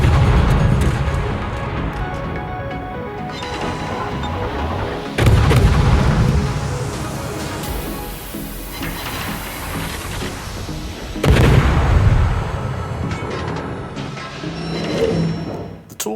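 Naval gunfire in World of Warships from a Tier 8 German destroyer's engagement: heavy booming volleys at spaced intervals over a constant rumbling battle backdrop, with no speech.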